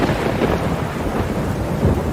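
Thunder rumbles steadily under heavy rain in an animated cartoon storm scene, a loud continuous wash with deep low rolls throughout and no voices.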